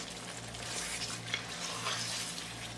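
Paneer masala being gently stirred in a pan over a medium-high flame, with a steady close sizzle of frying and soft scraping stir strokes, no voices.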